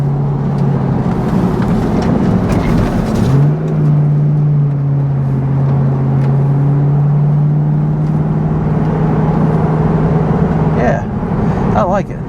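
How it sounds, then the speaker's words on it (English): Engine drone of a car pushed hard through corners after control arm replacement, a steady loud hum with a rising pitch sweep partway through, road noise beneath, and someone speaking over it. "let's run it a little bit harder through some corners"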